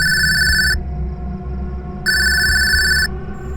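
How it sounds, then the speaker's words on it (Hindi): A mobile phone rings with an incoming call in an animated Hindi horror story: two sustained electronic ring bursts separated by a pause, over a low steady background hum. "एक शाम गौरव के मोबाइल पर रामदास की कॉल आई"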